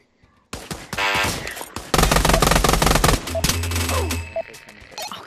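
Gunfire from a pistol in the VR game Pavlov: a burst of loud, rapid shots crackles close by and then breaks off, leaving a low hum and scattered softer clicks.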